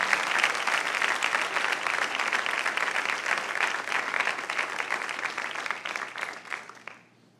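A church congregation applauds loudly and steadily for several seconds during a late-night service, the dense clapping tapering off toward the end.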